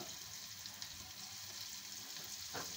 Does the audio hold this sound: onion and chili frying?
yes